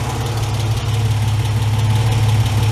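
A Ford Capri MK1 engine idles steadily after sitting unused for eight years, a loud, even low rumble with a slightly tappety edge running continuously and alone.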